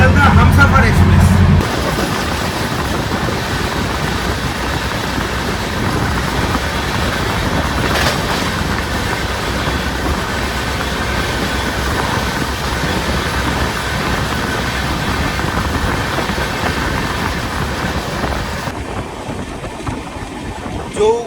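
The 22318 Jammu Tawi–Sealdah Humsafar Express rolls past at an Indian railway station as a loud, steady rumble that holds for most of the stretch before ending abruptly near the close.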